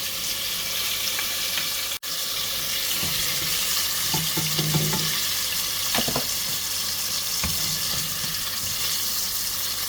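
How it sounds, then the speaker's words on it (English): Quail fry in hot oil with a loud, continuous sizzle, crackling and popping steadily, with a few brief knocks from cookware. "We'll let those cook till the sizzle slows down, but not stop."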